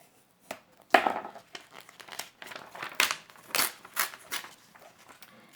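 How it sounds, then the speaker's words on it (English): Scissors cutting a picture out of a paper page, a series of close crisp snips and crinkles in irregular bursts, fairly quiet between cuts. "So what I think I'll do is I'll cut one that's just mostly a picture."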